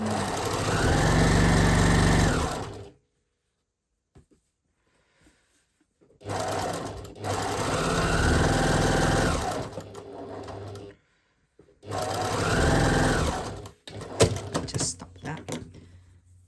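A sewing machine on stitch setting 2 runs a fabric seam for a dressmaking rouleau in three steady bursts of a few seconds each, separated by quiet pauses, with a clatter of handling at the end.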